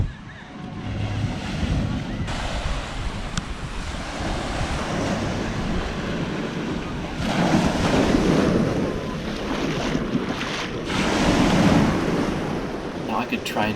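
Ocean waves wash in and break on a beach in Grenada, surging louder twice, mixed with wind rumbling across the microphone.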